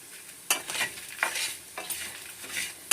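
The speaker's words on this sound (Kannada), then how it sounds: "ಮೆಂತ್ಯ ಸೀದಂಗೆ ಸಣ್ಣೂರಿನಲ್ಲೇ ಫ್ರೈ ಮಾಡ್ಕೋಬೇಕು" Fenugreek seeds being stirred in a pan over a low flame for sambar, a quiet background sizzle broken by several sharp, close scraping strokes of a spoon against the pan at irregular intervals.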